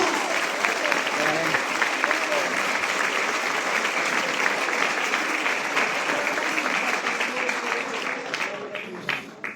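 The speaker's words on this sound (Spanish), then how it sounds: "Aplauda el nombre de Jesús." Sustained applause from a church congregation during a sermon, a thick continuous patter of many hands lasting nearly ten seconds, with scattered voices and cheers mixed through it.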